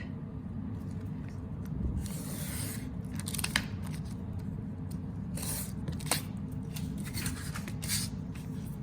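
An X-Acto knife slices through a thin cardboard treat box along a ruler, giving repeated scratchy cutting strokes in short uneven bursts at close range over a low steady room hum.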